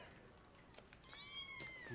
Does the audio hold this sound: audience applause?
no